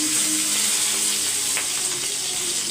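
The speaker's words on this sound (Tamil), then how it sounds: "கொஞ்சம் கடுகு கொஞ்சம் சீரகம் பொரியட்டும் கடுகு பொறிஞ்சு வரும்போது பச்சை மிளகாய்" Mustard seeds, cumin and curry leaves frying in hot oil for a soy curry, giving a steady close sizzle with faint crackles throughout.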